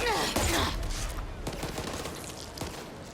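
Teammates' gunfire in the Back 4 Blood video game: dense, overlapping bursts of automatic shots crackling close by, loudest in the first half second and continuing in sharp rapid volleys across the whole stretch.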